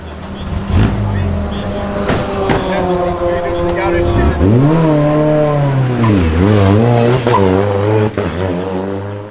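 A heavily modified VW Beetle race car accelerating hard out of the pit lane in a four-hour endurance race, its loud engine roaring up through the gears with rising and dipping pitch close by.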